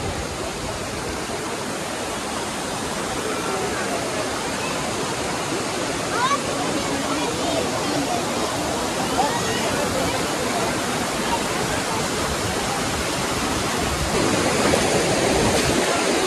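Strong, cold rushing water roars steadily and loudly in Fethiye, Turkey, a dense continuous wash of noise with no pauses.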